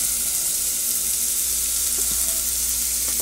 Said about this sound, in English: Just sauteing them down a little bit.